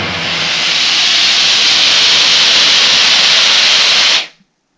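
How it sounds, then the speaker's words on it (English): Steam cleaner blasting a loud, steady hiss of steam during a bed bug treatment, continuous for about four seconds and then cut off abruptly into silence. "You can see all of the steam that came off that."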